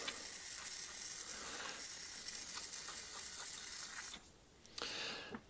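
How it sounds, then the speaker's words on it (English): Wire wool scrubbing inside the float bowl of a Qualcast 35s cylinder mower carburettor, a soft, continuous gritty rasping with small clicks, faint and close, pausing briefly before resuming. "So a bit of wire wool in here, just to get all the contaminants out of the bowl."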